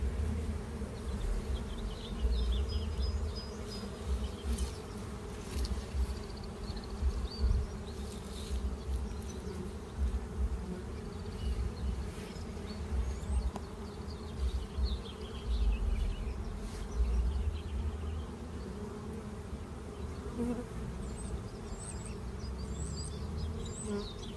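Bees buzz around a hive during the 2024 solar eclipse, a dense continuous hum with individual insects droning close by now and then, steady throughout with no talk.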